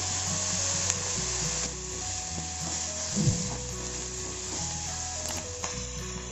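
Onions and green chilli sautéing in a pan for an urad dal and potato vada, a steady close sizzle with occasional scraping stirs of the spoon against the pan.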